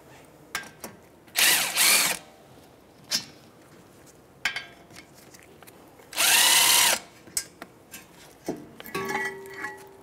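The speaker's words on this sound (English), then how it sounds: "I'm just gonna get my electric tool, make it go a little faster." An electric power tool spins off the caliper bracket knuckle bolts during a front brake job on a 2010-2015 Lexus RX350, heard as two loud close whirring bursts between clicks and metal clinks.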